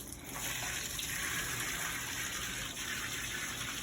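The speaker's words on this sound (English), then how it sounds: "So I'm going to pour out my color remover into the tub." Hot color remover liquid is poured into a tub, a steady broadband gush of splashing liquid running the whole time at close range with no talking.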